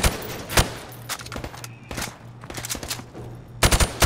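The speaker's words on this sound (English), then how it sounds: "shoot at the targets while firing from the hip" Bursts of gunfire from a weapon fired from the hip at targets on a shooting range in Call of Duty Modern Warfare, the video game: sharp close shots in short irregular volleys with a steady hum between them.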